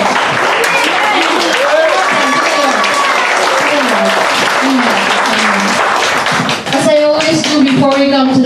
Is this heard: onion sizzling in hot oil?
no